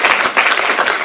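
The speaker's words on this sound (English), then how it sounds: "So if you want to applaud for the Senate to do that." Close, dense applause from the audience at a Sonoma County town hall meeting, a brief burst of many hands clapping at once.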